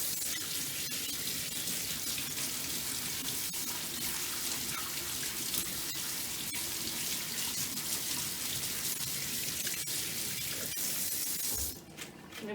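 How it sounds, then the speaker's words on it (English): Hands are rinsed under a running tap, a steady, close, loud stream of splashing water that runs continuously and cuts off near the end. "So I'm gonna just rinse my hands real quick."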